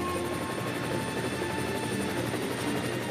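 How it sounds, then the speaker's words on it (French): Rescue helicopter hovering over a boat during a rescue training exercise: a steady, loud, close rotor drone with rapid chopping blade pulses, constant throughout with no pauses. "les stagiaires sont désorientés par le bruit de l'hélicoptère"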